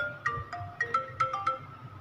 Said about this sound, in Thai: โทรศัพท์เข้า พอดีเลย